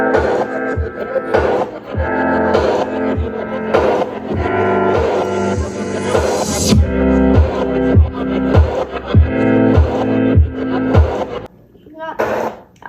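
A snare drum built from a sample in music software strikes in a steady, loud rhythmic pattern over a sustained synth or keyboard bed, with a brief pause and a few louder hits near the end.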